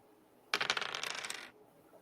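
Dice rolled during a board game tumble in a quick, close burst of hard rattling clicks that lasts about a second before settling.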